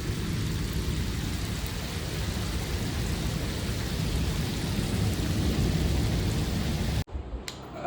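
Heavy rain pours steadily with a rumbling thunderstorm in Islamabad, a dense loud wash for about seven seconds before it cuts abruptly to a quieter, thinner patter.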